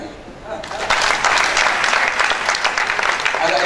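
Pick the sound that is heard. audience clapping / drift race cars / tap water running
audience clapping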